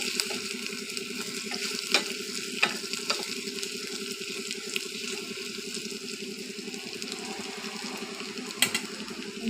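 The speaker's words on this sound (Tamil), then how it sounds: "வெங்காயம் நல்லா வதங்கட்டும்." Onions sautéing in a pan for mulaikeerai sambar, a continuous close sizzle with occasional sharp ladle scrapes and clinks, no voices.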